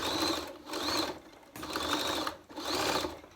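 A sewing machine stitches down the fabric edge of a cloth face mask in three short whirring runs separated by brief pauses, close and steady, with no talking.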